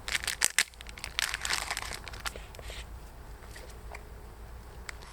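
A CBRN gas mask filter is being worked open, with close, loud crinkling and crunching at first, then quieter scattered crackles and faint rustling, and no one talking.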